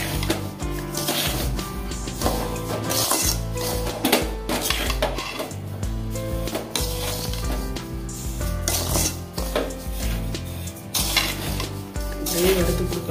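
Semolina roasting in ghee for rava laddu while being stirred in a pan, with continuous clattering and scraping of a spoon against metal, loud and close, and a faint sizzle underneath.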